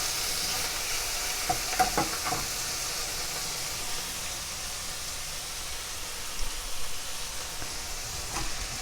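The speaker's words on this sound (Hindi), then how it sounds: "इनको अच्छी तरह से मिक्स कर लें और भून लें।" Onions, ginger garlic paste and tomatoes for a lamb kidney curry fry in a pan with a steady, broad sizzle, plus a few faint stirring scrapes early on and near the end; no voices.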